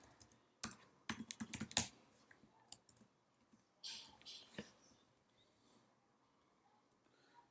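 A computer keyboard clatters as a password is entered, starting with a fast cluster of sharp keystrokes, then scattered single taps and clicks with pauses between them, close but fairly quiet.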